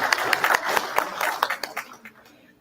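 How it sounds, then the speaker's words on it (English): Applause from a lecture audience at an evening winter lecture series, a fairly close patter of claps that thins out and fades over a couple of seconds. "Another round of applause for our speaker."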